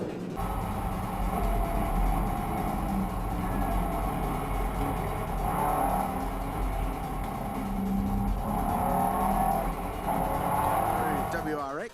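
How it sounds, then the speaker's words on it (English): The HSV Astra race car pulls out of the garage and down the pit lane at the 2013 Bathurst 12 Hour, its engine a sustained loud drone rising and falling, with faint crowd or track noise beneath. "as the HSV Astra leaves the garage and pit lane."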